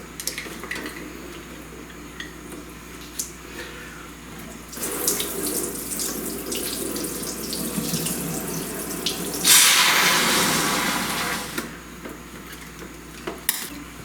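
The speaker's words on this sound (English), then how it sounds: "We can rinse this out with a little bit of water now so that we can save it" Water runs and sloshes as a hollow ostrich egg is rinsed out, a steady tap-like trickle with a louder gushing burst partway through and faint clinks around it.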